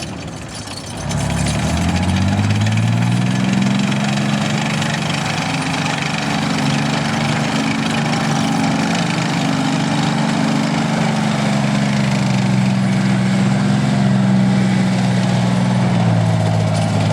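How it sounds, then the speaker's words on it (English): An M4 Sherman tank's rear-mounted engine starts after a second of quieter sound. It then runs steadily and loudly with a deep, even rumble that holds throughout. "the engine of the Sherman is in the back"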